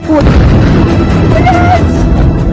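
Drone explosion in Tel Aviv captured in news footage, a loud sustained boom and rumble filling the whole clip with a dense, roaring low end.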